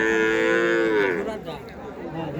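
Cattle at a cattle market low in a long, loud, close moo that bends downward and fades, with faint crowd chatter behind.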